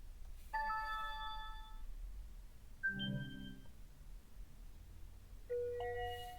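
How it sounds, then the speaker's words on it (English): Several chiming notification tones from the Sync 3 infotainment system of a 2023 Ford Bronco Sport, each a short melodic electronic alert sample played back one after another with gaps between them. "You can also set settings for the tone that you get when a text message comes in."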